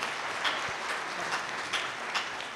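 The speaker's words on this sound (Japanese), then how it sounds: "すごい拍手してください" Applause fills a live public talk in Nishinomiya, with many people clapping in a continuous, even patter and occasional louder bursts.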